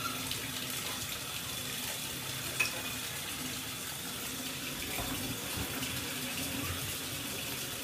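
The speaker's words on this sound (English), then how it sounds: "so that I'm sure water with vinegar in it gets in there" Tap water running steadily into a tub filled with water and vinegar to soak a French horn, a constant close splashing rush with a faint clink partway through and no voices.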